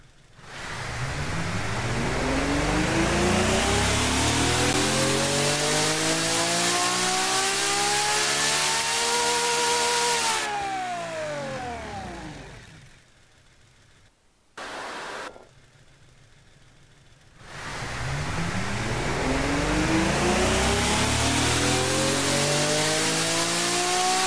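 A V12 car engine in a video game revs up high and drops repeatedly, sweeping pitch in long loud pulls, with a brief near-silent gap before revving resumes.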